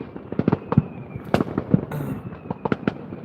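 New Year's Eve fireworks bursting in a rapid, irregular string of sharp cracks and bangs, some louder and nearer than others, over about three seconds, with no one talking.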